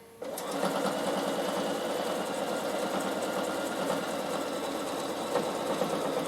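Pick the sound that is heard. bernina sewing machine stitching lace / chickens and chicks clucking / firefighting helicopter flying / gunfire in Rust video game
bernina sewing machine stitching lace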